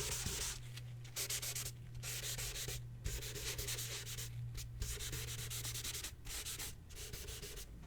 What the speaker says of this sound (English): I'm now going to use a bit of kitchen roll